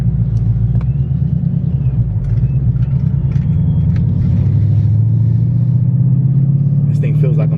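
A Ford Mustang GT accelerates hard on an open road, its loud, close engine rumble swelling and climbing steadily in pitch, with a voice heard faintly under it.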